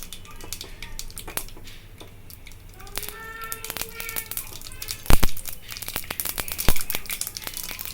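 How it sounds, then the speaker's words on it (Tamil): Mustard seeds splutter in hot oil in a pan, with irregular sharp pops and crackles that grow denser and louder, including a few strong bursts. A brief voice is heard in the middle. "கடுகு பொரியட்டும்"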